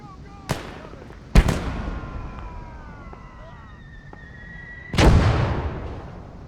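Mortar fire lands in three sharp blasts, one small and two heavy booms with rumbling tails, while high descending whistle-like tones sweep between them.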